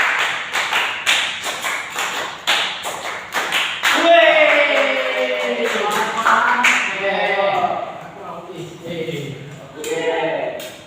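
A group of children in a small classroom claps in rhythmic bursts of sharp, closely spaced hand claps for about four seconds, then a leader's voice talks over scattered later claps.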